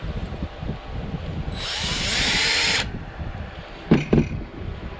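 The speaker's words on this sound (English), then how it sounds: "if you take an 1/8 inch drill bit, you kind of want to hold it at an angle too that you want the brush guard to go" A power drill with an 1/8 inch bit whines steadily for about a second while drilling out a bass jig head. Low handling clatter and a couple of sharp knocks follow afterward.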